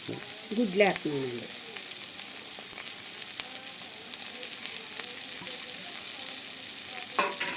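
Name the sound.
eggs added to frying village-style curry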